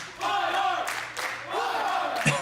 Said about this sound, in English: the crowd showing their appreciation for this main event here today